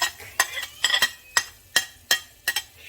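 Garlic sautéing in butter in a pan for buttered garlic prawns, heard as a series of sharp clinks and scrapes of a utensil against the pan, about eight distinct strikes over a soft background sizzle, close and without talk.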